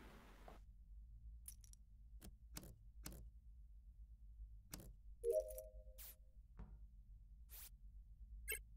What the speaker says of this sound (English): I just put a key in.